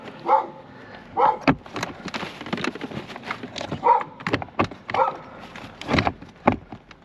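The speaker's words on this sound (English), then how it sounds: "Please excuse a barking dog." A dog barks repeatedly in the background near an old Mercedes under AC repair, short sharp yaps spaced irregularly with a few louder bursts over a quiet room.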